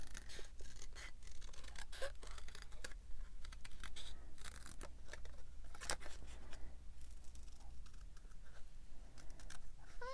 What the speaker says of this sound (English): We're just going to cut around, leaving just a little bit of that white edge.